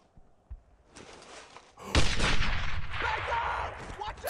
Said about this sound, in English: I just threw a grenade.